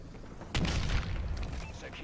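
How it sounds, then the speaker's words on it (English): A sudden loud boom from a bombing run in Call of Duty: Advanced Warfare multiplayer, a single blast that rumbles and decays over about a second and a half, with a voice talking around it. "Ooh, a bombing run."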